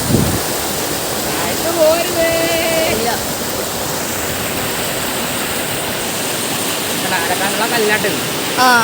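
Loud, continuous rush of water pouring through a narrow sluice shutter in high water, with brief bird or squeaky tones flickering over the roar.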